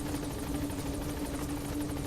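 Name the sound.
helicopter in the video game Metal Gear Solid V: The Phantom Pain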